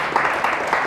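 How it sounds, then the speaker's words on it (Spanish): A church congregation claps together, a fairly soft wash of applause with a few sharper individual claps standing out at regular intervals. "Le damos fuerte el aplauso a Dios."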